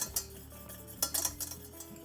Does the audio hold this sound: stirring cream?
yes